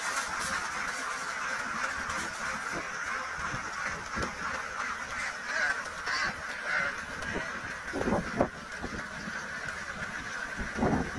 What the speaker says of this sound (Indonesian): Itik di angon di area persawahan.